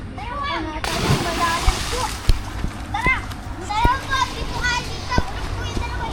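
Children splash and jump into a river, with water splatters and sharp bursts scattered across the clip while kids' voices chatter and call out throughout, plus some birdlike chirps in the background.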